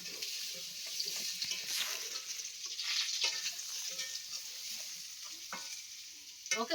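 Food sizzles steadily in a pan at close range while a utensil stirs and scrapes through it, with occasional louder clinks near the end and no talk.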